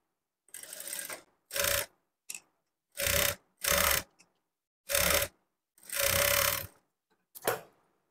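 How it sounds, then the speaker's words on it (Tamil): Sewing machine stitching the folded quarter-inch edge of a lined cotton blouse, heard as several short bursts of rapid whirring needle runs separated by quiet pauses, close and fairly loud. "கீழ்ப்பக்கம் ஒரு 1/4 இன்ச்சில் கரபாகத்த அளவுக்கு நம்ம மடிச்சுட்டு எட்ஜில் தையல் போட்டுக்கிறோம்"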